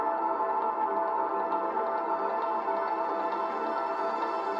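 Looped piano playing A root notes, run through a Guitar Rig Crystallizer preset, forming a dense shimmering wash of sustained tones at moderate level, continuous and without talk.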